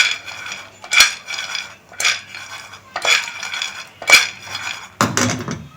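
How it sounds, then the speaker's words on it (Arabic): A spoon stirs peanuts roasting with sugar in a pan, repeated close metallic scrapes and clinks in bursts about once a second, with no talk. "انا هفضل اقلب فيه كده لحد ما يتحمص كويس"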